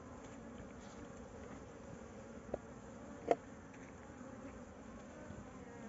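A honeybee swarm living inside an old tire hums in a dense, continuous drone, close and steady, with two faint clicks partway through and no voices.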